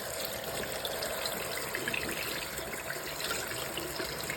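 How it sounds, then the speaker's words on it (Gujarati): Cold water poured over blanched spinach leaves in a plate, a steady soft hiss and trickle of running water, faint and continuous with no talking. "હવે આની ઉપર એકદમ ઠંડુ પાણી એડ કરી દઈશ"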